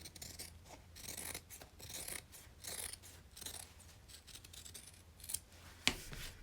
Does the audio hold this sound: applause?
no